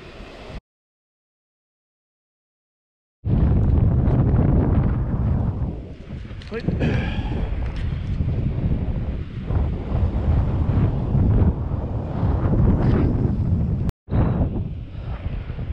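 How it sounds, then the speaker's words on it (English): Heavy wind buffets the microphone near a boat ramp in loud, continuous gusts after a brief silent gap, with a short dropout near the end. "Blowing a gale, you guys about to hear on the microphone."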